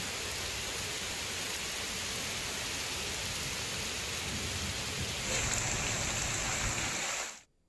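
Heavy rain in Hyderabad at night roars as a dense, even wash of noise for about seven seconds, brightening slightly near the end before cutting off abruptly.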